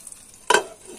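Bread soaked in milk and egg sizzles in a frying pan, with one sudden loud burst of crackling halfway through as the slice is flipped, then a quieter steady fry.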